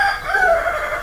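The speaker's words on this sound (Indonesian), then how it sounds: "ya itu tadi suara ayam" A rooster crows once as a sound effect, a single drawn-out cock-a-doodle-doo with clear wavering tone, loud and close with nothing else heard.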